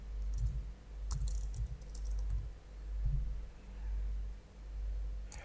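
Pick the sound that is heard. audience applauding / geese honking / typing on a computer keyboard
typing on a computer keyboard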